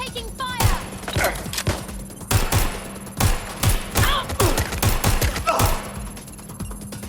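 Gunfire in Watch Dogs: Legion, sharp close shots and short bursts cracking out in an irregular volley across the scene, with voices calling out between the shots.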